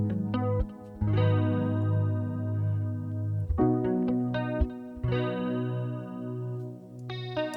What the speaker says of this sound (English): I kept those little phaser whirly keys, the main guitar, and then the soft piano